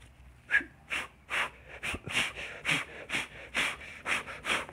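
Repeated puffs of air blown hard through a face mask in a failed attempt to whistle, about a dozen breathy whooshes in a steady rhythm, with no clear whistle tone coming through.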